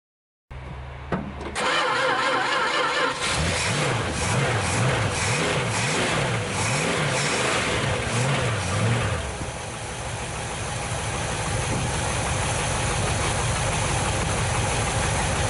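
After a brief crank, a 1973 Dodge D100 pickup engine, first start in 10 years, sputters to life, revs unevenly for several seconds, then settles into a steady, rough idle.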